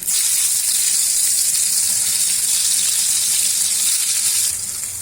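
Brinjal slices frying in hot oil give a loud, steady close-up sizzle that runs unbroken and dips slightly near the end.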